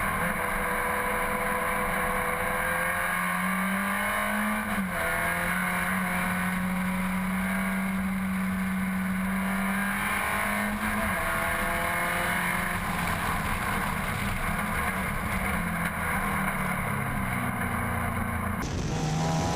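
Vintage MG race cars at Grattan Raceway during an MG feature race, a tight pack of several cars droning loudly and continuously, engine notes rising and falling as they run close together through the circuit, with a sharp change near the end.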